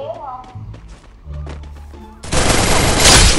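Loud, dense automatic gunfire bursts in the Free Fire mobile shooting game, a continuous rattling barrage that takes over after a second of speech and muffled thuds.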